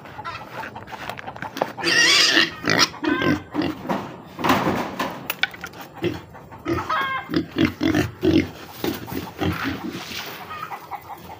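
Three pigs in a backyard hog pen grunt, squeal and snort loudly and up close in a busy, overlapping chorus, with a few shrill squeals standing out.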